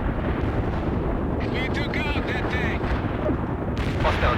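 Artillery fire and battlefield rumble in the real-time strategy game World in Conflict, a dense continuous roar of distant explosions and booms, with a radio-style voice speaking briefly in the middle.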